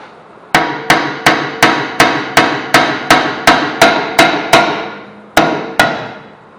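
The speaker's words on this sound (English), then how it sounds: "So we're going to have to hit this a little bit." Repeated hammer blows on a corroded rear brake rotor of a 2010 Ford Taurus during hub replacement: about a dozen sharp, loud metallic strikes in a steady rhythm, a short pause, then two more hits, with no talking.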